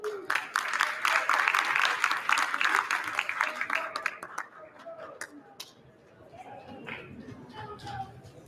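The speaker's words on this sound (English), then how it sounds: "Let's give them a round of applause." An audience claps loudly for a high school performance at a councilwoman's inauguration ceremony. The applause swells for about four seconds, then fades into scattered claps and murmured chatter.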